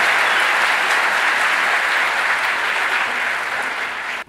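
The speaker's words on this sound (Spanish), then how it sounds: "Un fuerte aplauso para Jorge Luna" Enthusiastic audience applause for comedian Jorge Luna at a live comedy talk show, a dense steady wash of clapping that holds loud for about four seconds before cutting off abruptly.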